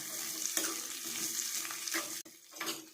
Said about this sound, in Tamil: முந்திரி தேங்காய் திராட்சை எல்லாமே போட்டு வறுத்து எடுத்துக்கலாம்